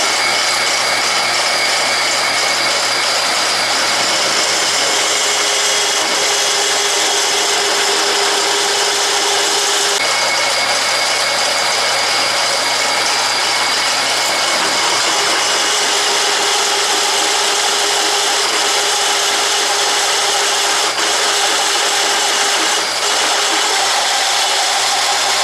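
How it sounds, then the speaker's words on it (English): A power drill with a 3/4 inch bit grinding steadily through metal, a continuous high whine with a motor hum, running for a long stretch without pause. "So let's go ahead and drill this and see what happens."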